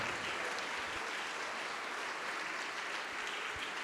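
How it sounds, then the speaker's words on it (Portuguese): Audience applause fills a church service in a steady, continuous wash of clapping, fairly faint and distant, with no talk over it. "Vamos aplaudir mais ao nome de Jesus"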